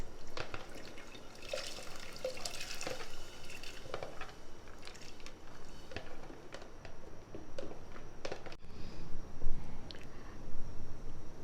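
Chana dal lentils tipped into boiling water in a pressure cooker, giving a continuous wet bubbling and dripping splatter with scattered small splashes. It stays moderately quiet, with no talking.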